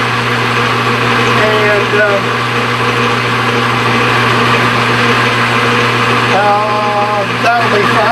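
Steady machine hum of a lathe taking a light cut on metal stock, with a continuous whirring drone and faint cutting noise; a voice speaks briefly over it.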